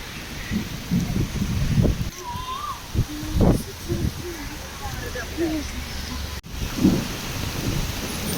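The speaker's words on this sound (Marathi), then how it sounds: "आणि अचानकच खूप जोरातच 4:30 वाजता पाऊस आलेला आहे." Sudden heavy rain pours down with thunder rumbling on a drive back from Mahabaleshwar, a broad steady wash with low booming bursts, while people talk intermittently over it.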